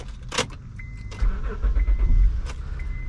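A 2007 Honda Accord Coupe EX-L V6 cranks briefly and fires up close by, then settles into a low, steady idle.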